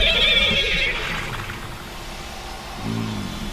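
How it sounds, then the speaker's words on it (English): A horse neighs loudly in the video game Destiny 2, a single strong whinny at the start that trails off, followed by a softer snort or second whinny near the end. "Time to ride the horse."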